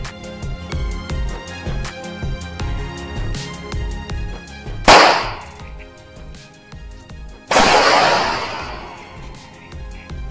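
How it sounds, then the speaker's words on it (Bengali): Two TNT bomb blasts go off, each a sudden loud burst with a hissing tail that fades over a couple of seconds, set against a steady musical bed. "এখন জাস্ট হচ্ছে আমাদের যে টিএনটিটা সেটাকে আমরা ব্লাস্ট করব।"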